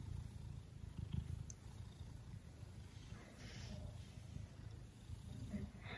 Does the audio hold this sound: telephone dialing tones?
no